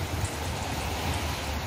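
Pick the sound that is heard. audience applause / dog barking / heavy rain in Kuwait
heavy rain in Kuwait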